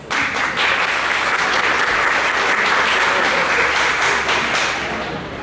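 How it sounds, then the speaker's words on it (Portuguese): An audience gives a warm round of applause, a continuous dense patter of many hands clapping at steady volume before tapering off at the close. "Uma salva de palmas."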